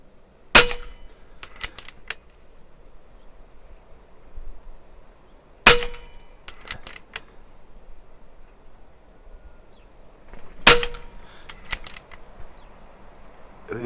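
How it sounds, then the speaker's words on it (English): Three sharp rifle shots from a Cattlemen M1 crack out at roughly five-second intervals, each a loud close report followed by brief clattering action noises, with light wind in between. "These will probably be shooting higher now because I think they travel faster and they have a better ballistic coefficient"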